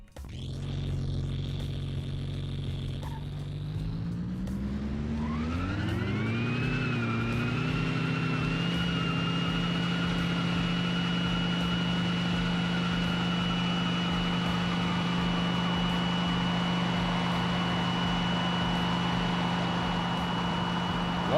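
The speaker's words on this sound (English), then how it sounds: "Is it just me, or is that Supercharger, like, really just grating on the ears?" A supercharged car engine in a racing video game revs up from a low drone into a steady, loud, high-pitched whine that holds for the rest of the stretch, with no talking.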